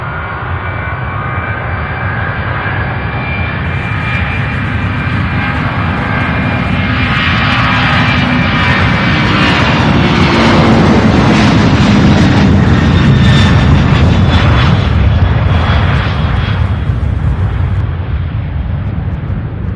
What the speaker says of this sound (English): Another 767 taxiing and on the move now.